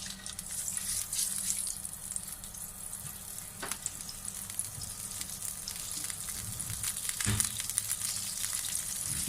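Butter melts in a pan over a full flame for a cheese omelette, giving a continuous soft sizzle and hiss, close by, broken by a couple of sharp clicks or knocks.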